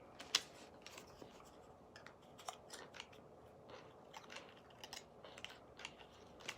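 Scissors snipping around lace trim on a clothesline rope craft, a run of crisp, quiet cuts in an irregular rhythm, close by and alone without talk.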